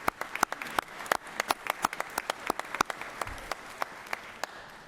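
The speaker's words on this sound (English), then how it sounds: "It's okay to clap. It's a big deal for these guys, yeah." Applause in the Georgia Senate chamber, a scattered crowd clapping with distinct sharp individual claps standing out above a softer steady patter, moderately near.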